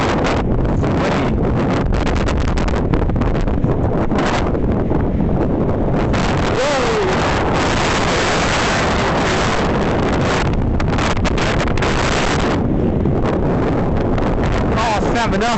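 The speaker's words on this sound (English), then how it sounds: "It's windy." Strong wind buffets the microphone on a windy day outdoors, a loud, continuous roaring rumble that swamps everything for the whole stretch.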